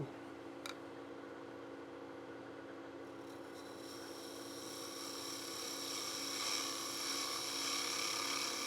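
Wood spinning on a woodturning lathe, cut by a 3/8 spindle gouge with a bevel-riding cut: a steady faint motor hum with a soft hiss of the tool against the wood that grows slightly louder toward the end.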